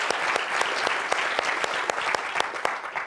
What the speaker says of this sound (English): Let's give him a real round of applause.